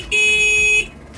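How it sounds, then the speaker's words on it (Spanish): A motorcycle horn sounds once, a single steady electric beep lasting under a second, close and loud, then cuts off. "Vamos a tocar el claxon."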